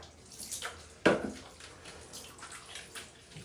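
Rinse water splashes over a cat in a bathtub to wash off soap, with one sharp splash near the start amid softer trickling and dripping, close by.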